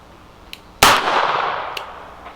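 S&W .44 Magnum Hunter Performance Center revolver fired once at a target, a single sharp, loud blast with a long ringing decay, bracketed by faint clicks before and after.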